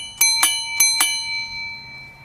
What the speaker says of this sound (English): Then we have a ding-dong bell down here